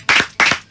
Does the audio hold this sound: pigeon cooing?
no